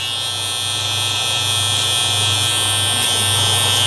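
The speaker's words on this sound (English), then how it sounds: "Get your shaver and you're gonna ball these out right here." An electric shaver buzzes steadily and loudly at close range as it cuts hair during a high taper haircut, a continuous motor drone with no talking.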